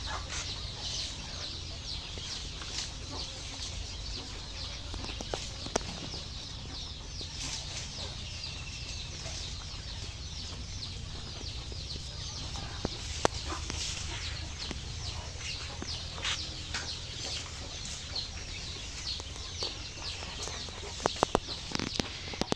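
Chickens on a small farm clucking steadily throughout, with occasional sharper calls and wing flaps, close and alone with no talk.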